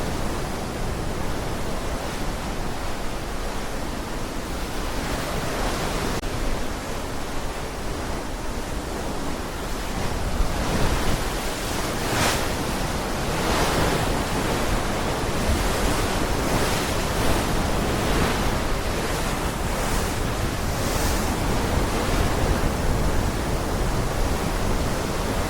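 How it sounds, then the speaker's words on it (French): Ocean waves break against the hull of a boat sailing in the Caribbean, giving a steady, loud wash of surf with repeated heavier crashes and some wind across the microphone, with no voices. "la mélodie constante des vagues qui viennent se briser avec puissance contre la coque"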